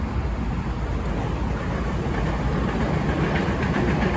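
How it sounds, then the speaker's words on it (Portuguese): A train passes in light rain beside a highway in southern Brazil, giving a steady, dense rumble with faint rhythmic clatter, continuous and fairly loud throughout. "Olha o trem."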